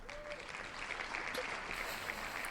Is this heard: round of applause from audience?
yes